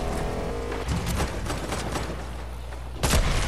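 Rapid gunfire from a shooter video game: a quick series of sharp, close shots crackling over a steady background din, ending with a louder, heavier burst.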